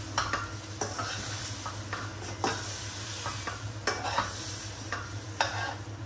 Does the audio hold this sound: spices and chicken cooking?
yes